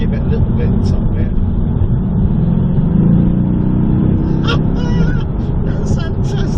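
A Mercedes AMG GTS engine revs and pulls hard under acceleration, a loud low growl rising and falling from inside the car, with people talking over it.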